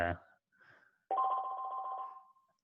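A desk telephone rings in an office, one clear sustained electronic ring tone standing alone after a brief spoken word and a short pause.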